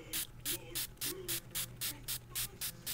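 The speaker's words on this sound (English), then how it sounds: "I'm just going to spray." Glimmer Mist colour spray is pumped onto paper in about a dozen quick, regular hissing bursts, close and fairly soft over a faint background hum.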